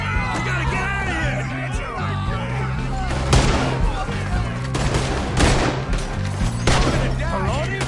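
Rapid bursts of gunfire ring out in a Red Dead Redemption 2 shootout, with volleys clustered near three, five and six and a half seconds over a busy game score, and yelling voices mixed in.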